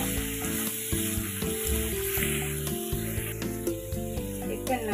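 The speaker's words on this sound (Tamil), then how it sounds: "இப்போ வந்து வெங்காயம் வதங்கிட்டது, சிக்கனை போட்டுக்கலாம்." Chicken pieces sizzle in a pan over sautéed onions for a coconut chicken stew, a steady close crackle and hiss with occasional stirring clatter and no voices.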